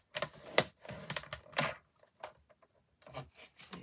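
A tool scores lines into paper on a scoring board at half-inch and inch marks, making a few short close scraping strokes with brief pauses between them and no talk over them.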